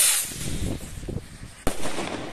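New Year's Eve fireworks go off outdoors, with one sharp, loud firecracker bang near the end over a low rumble of distant crackles and background noise.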